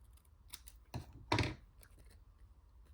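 Scissors trim the end off a layered paper fringe strip in a quiet craft setting, giving two crisp snips close together, the second louder, with faint handling rustle around them.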